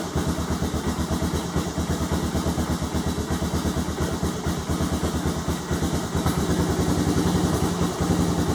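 Honda Recon ATV engine idling steadily after a carburetor install, its fast, even exhaust pulses sounding close and loud throughout, with a slight rise in level near the end.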